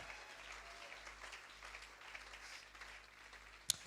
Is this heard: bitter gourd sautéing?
no